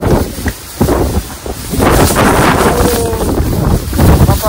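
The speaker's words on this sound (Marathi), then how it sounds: "जोरात वारा मारतो." Strong wind blows across Girnar mountain in Gujarat. It roars and buffets the microphone steadily and loudly, with brief gusting swells throughout.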